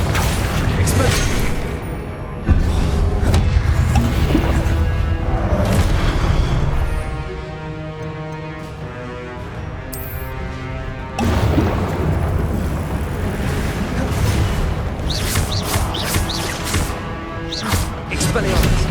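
Spell explosions in the video game Hogwarts Legacy make heavy booms and crashes, with a loud burst early on, a calmer humming stretch in the middle, then a renewed run of impacts and clatter under frequent speech.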